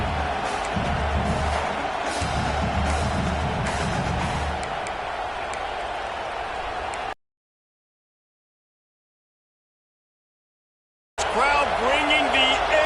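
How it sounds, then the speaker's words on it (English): Crowd noise at a college football game between South Carolina and Nebraska, a steady loud roar filling the stadium that cuts off to silence midway, then returns with the broadcast. "Crowd bringing the energy and noise early"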